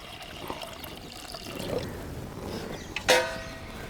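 Water poured from a vessel into washed lentils sitting in a clay pot, a soft trickling fill close by that ends in a brief louder splash near the end, with no talking.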